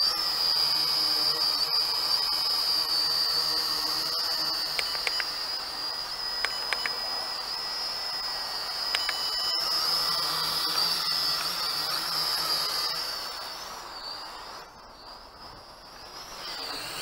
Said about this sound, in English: here's a close look at the drone flying.